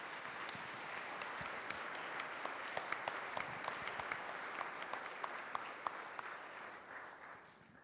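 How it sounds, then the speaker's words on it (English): An audience applauds an award recipient with steady, moderately quiet clapping, individual sharp claps standing out from the dense patter before it tapers off at the end. "Can you give her a round of applause"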